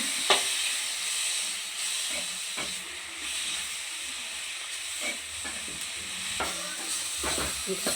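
Steady hiss and sizzle of tomatoes sautéing in a pan, with occasional stirring clicks and scrapes throughout, no talking.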